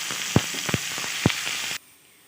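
Vegetables go into a pan of frying dried fish with green chilli paste, making a close sizzle broken by several sharp thuds and clatters before the sound cuts off abruptly.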